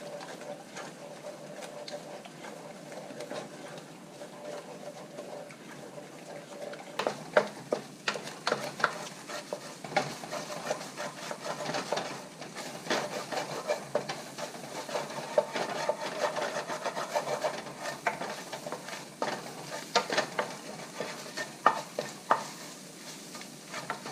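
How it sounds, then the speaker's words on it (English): Eggs being scrambled in a frying pan for fried rice, a steady sizzle with repeated scraping and stirring strokes of a utensil against the pan, continuous and close. "What I do is just scramble the eggs, basically, just scramble it."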